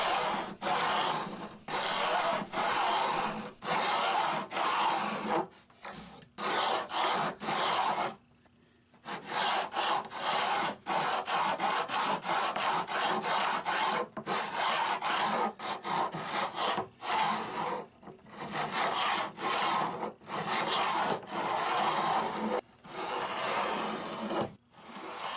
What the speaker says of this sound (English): we'll flip the file over and bevel this side